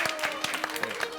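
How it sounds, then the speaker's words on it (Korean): A handful of quick claps from a small studio audience at a Korean science lecture, brief and close, mixed in with a speaking voice. "박수 한번 쳐주세요."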